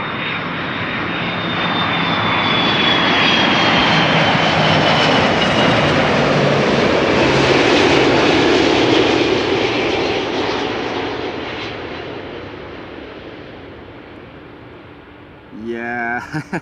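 An airliner on its second landing attempt at Amsterdam Schiphol Airport roars steadily, its engine noise swelling to a broad peak midway and then slowly fading as it passes, with a brief clatter near the end.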